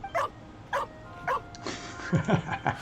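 Dog barking in the video game Genshin Impact: three sharp, evenly spaced barks up close, then a cluster of quicker yips and short barks, heard clearly without talk.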